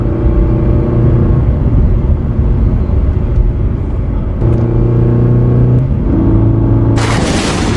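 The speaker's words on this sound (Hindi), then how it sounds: "तभी एक व्यापारी अपनी गाड़ी से गांव में आ जाता है।" A cartoon sound effect of a merchant's car driving into a village: a loud, continuous engine rumble with steady tonal drones that shift pitch a couple of times, ending in a sudden burst of hiss.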